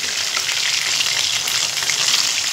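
Crispy chicken pieces deep-frying in hot oil over a high flame, giving a loud, steady, dense sizzle that runs unbroken and close, with no speech.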